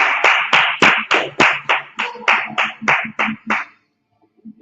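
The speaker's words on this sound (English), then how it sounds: "All right, clap it up." Steady rhythmic hand clapping, about a dozen sharp claps in quick succession, loud and close, at a scripture and law class, stopping abruptly into near silence.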